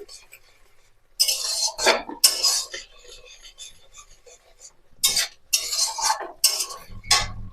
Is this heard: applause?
no